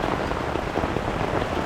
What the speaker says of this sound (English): Well, we got the thunderstorm.